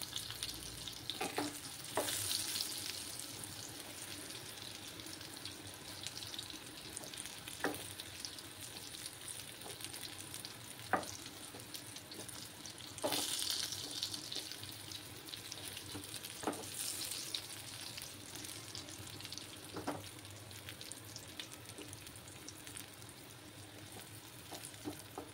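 Eggplant pieces fry in hot oil for a vegetarian doi begun, a quiet steady sizzle held over a long stretch, broken now and then by sharp clicks of a spatula turning the pieces.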